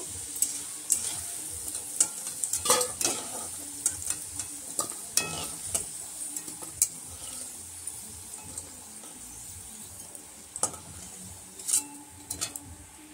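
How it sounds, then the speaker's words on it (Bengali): Fried potatoes in hot oil are stirred and lifted out, giving a soft, steady sizzle broken by scattered utensil scrapes and clinks against the pan, fairly quiet and close. "আলুগুলো আমাদের ভাজা হয়ে গেছে। এবার আলুগুলো তুলে নেব।"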